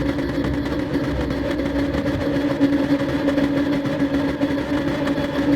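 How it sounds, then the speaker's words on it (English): BMW M3 race cars revving together on the starting grid at Spa in a racing video game, a dense, steady, droning engine hum held at a constant level with no one talking. "So lights are on, revs are up."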